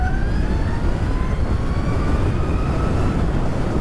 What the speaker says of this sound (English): One twist of the throttle